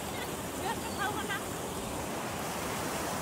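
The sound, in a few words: Bhujung river flowing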